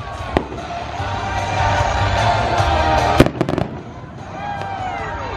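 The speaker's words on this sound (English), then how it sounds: "Finally, real fireworks." Fourth of July fireworks bursting outdoors, a sharp crackle and several quick booms over a continuous rumble of explosions and crowd noise.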